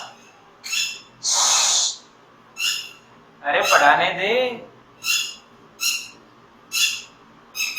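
Owl-like birds calling during a classroom lesson, a series of short hooting bursts repeating at regular intervals, with a voice speaking briefly among them.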